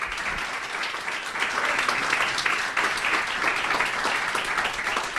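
Church congregation at a communion service applauding, sustained dense clapping from many hands that builds slightly and holds steady, with faint voices mixed in.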